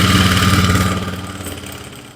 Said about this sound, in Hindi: ये भी सिलाई को हम यहाँ तक ही लगा देंगे